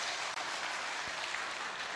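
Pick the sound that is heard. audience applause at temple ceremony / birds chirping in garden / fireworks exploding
audience applause at temple ceremony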